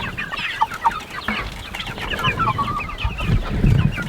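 Meat chickens in a pasture cluck and chatter steadily, several birds close by with overlapping calls and no one talking.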